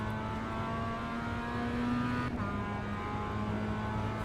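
Mazda MX5 engine at full throttle in iRacing, a steady high-revving buzz held loud and close with a brief gear-change dip midway, alone without talk.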